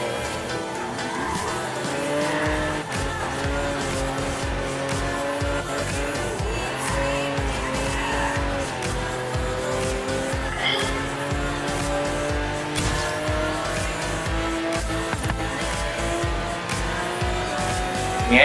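A 1994 Ford Falcon Futura driven recklessly in the Forza Horizon 3 racing game, with engines droning and tires repeatedly squealing and skidding under a busy, continuous mix of car sounds.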